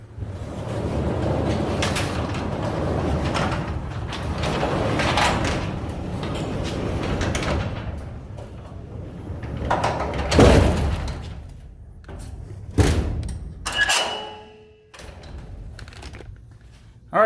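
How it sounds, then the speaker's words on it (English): Chamberlain side-mount garage door being pulled down by hand, giving a long rumbling roll for several seconds that ends in a loud clunk, followed by a few sharp knocks and rattles. "the door is up, so I'm going to pull it back down"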